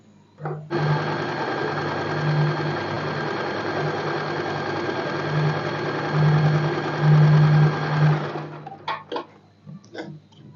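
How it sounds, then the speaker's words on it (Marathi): A sewing machine runs a continuous, loud close stitching seam along the waist side of a padded princess-cut blouse, a steady whirring drone that pauses, then gives a few short bursts at the end. "कमरेच्या साईडला मी डबल स्टिच करून घेणार आहे"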